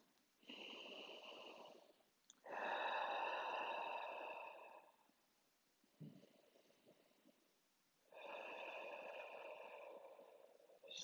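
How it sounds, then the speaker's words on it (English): Slow, deep breaths during seated chair yoga: three long, airy inhales and exhales, close and quiet, separated by brief pauses. "let's inhale for a few breaths"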